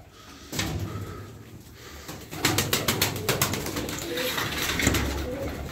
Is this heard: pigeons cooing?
yes